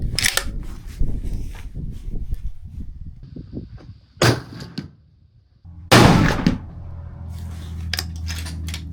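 A rifle fires two sharp, loud gunshots a couple of seconds apart while shooting groups, each with a short ringing decay, after a stretch of softer clicking and handling noises.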